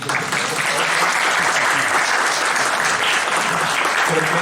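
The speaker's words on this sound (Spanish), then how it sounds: "Un aplauso, bueno, yo un aplauso." Full audience applause at a university event on the history of the UABC Faculty of Languages, dense and steady clapping of a crowd with no gaps, moderately loud throughout.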